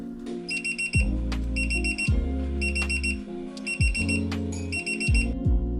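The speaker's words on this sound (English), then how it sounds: "the next feature is the alarm clock" A Divoom Pixoo 64 pixel-art display sounds its alarm clock tone: five evenly spaced bursts of bright, rapid electronic beeps over a low repeating tone, clear and close.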